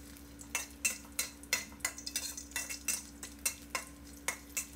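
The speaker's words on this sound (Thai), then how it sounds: "กุ้งแห้งเนื้อ2ช้อนโต๊ะให้เราผัดกุ้งของเราให้สุกหอมเลยครับ" Dried shrimp stir-fried in a little oil in a pan, heard as a quiet, steady run of scraping spatula strokes against the metal over a faint sizzle, with no talking.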